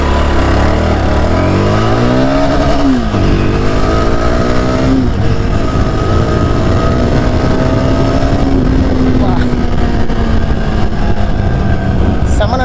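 A 2022 Yezdi Scrambler motorcycle engine fires up and is revved repeatedly, loud and close, with pitch rising and falling over a steady idle.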